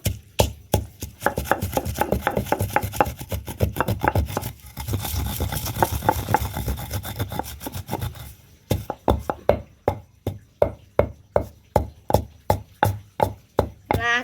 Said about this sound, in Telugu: ఇప్పుడు ఎండుమిర్చి దంచుదాం చూడండి ఎండుమిర్చి అయితే దంచుతున్నాము